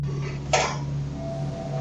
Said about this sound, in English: hears a cough from somewhere nearby